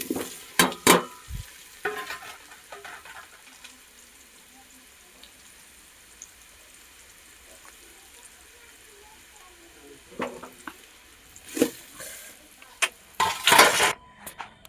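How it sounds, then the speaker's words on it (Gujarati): Besan patra rolls tossed and fried in a hot mustard, cumin and curry leaf tempering, with clanking utensil strokes and bursts of sizzle at the start and again near the end, and a quieter simmering hiss in between. "હવે એમાં આપણે નાખી દેવું આપણા પાતરા."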